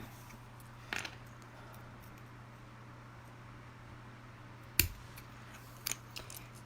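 Scissors trim pieces for a raku pendant in a few quiet, separate snips spaced seconds apart, close by over a low steady hum, with no voices.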